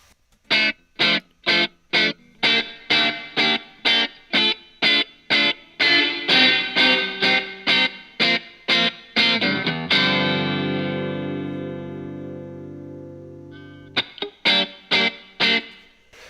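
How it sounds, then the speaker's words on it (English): A music track plays as a run of short, evenly spaced staccato stabs; the last one rings out in a long reverb tail that fades over several seconds before the rhythmic stabs resume. "it'll trigger this reverb, and we'll start to get some reverb on our track"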